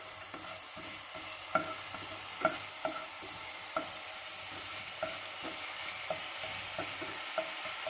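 Mint and coriander leaves stirred in a hot pan, with a steady sizzle of frying under regular light scraping taps from the spoon, close up, no voices.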